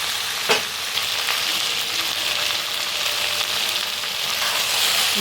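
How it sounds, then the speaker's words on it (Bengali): Chicken korma sautéing in a pan gives a constant loud sizzle with a soft knock near the start and light stirring scrapes throughout. "ভালো করে একটু কষিয়ে নিচ্ছি তাকে।"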